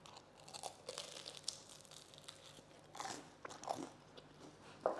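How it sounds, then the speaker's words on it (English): Repeated crunchy bites into the crusty, salty crust of a country-style boule, crackling bursts at irregular intervals, close and fairly quiet, with no talking. "I can hear the crunchiness here."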